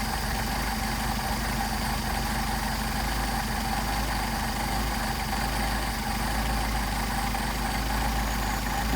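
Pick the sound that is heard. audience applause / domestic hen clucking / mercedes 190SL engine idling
mercedes 190SL engine idling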